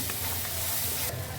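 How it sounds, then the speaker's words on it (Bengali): Spices sizzling in hot oil as soaked asafoetida water is added, a steady loud hiss and crackle with a brief surge of spitting near the end. "এবার আমি জলে ভিজিয়ে রেখেছি হিংটা দিয়ে দিলাম টেস্টার জন্য, দিয়ে ভালো করে এবার মশলার সাথে কষিয়ে নেব।"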